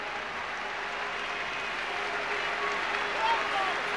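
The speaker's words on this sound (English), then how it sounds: "Sympathetic round of applause for Matt Cardy as he leaves that field with the injured knee" At a rugby cup final, a stadium crowd gives a sympathetic round of applause as an injured player leaves the field. The broad, steady clapping holds at a distance under a commentator's voice.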